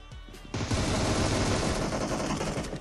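Automatic gunfire in the mobile battle royale game PUBG Mobile during an intense custom-room fight: a soft shot or two, then a loud, dense sustained burst of rapid fire that runs to the end.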